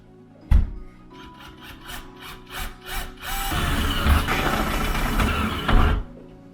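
A file works a drilled hole in a wooden door, first as a run of short rhythmic rasping strokes and then as a denser continuous scraping after a sharp knock, close and loud.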